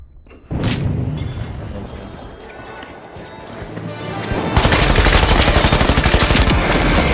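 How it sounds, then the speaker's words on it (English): A flashbang grenade and gunfire in the shooter game The Finals: a sudden loud burst, then a dense, sustained rattle that swells into heavy rapid firing, close and loud throughout. "Flashbang out."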